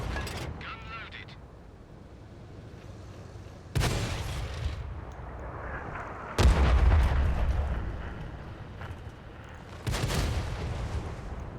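Three heavy tank cannon shots boom out in a tank video game, each a sharp loud blast with a rumbling tail, spaced several seconds apart, while someone talks quietly between them.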